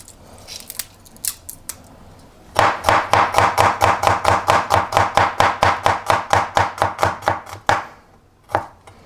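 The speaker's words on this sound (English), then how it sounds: "So I peeled and chopped up 10 cloves of garlic." A knife chops through ten peeled garlic cloves for adobo, about two dozen quick, even strikes on a board at close range. A few scattered taps come first, and the last strikes trail off.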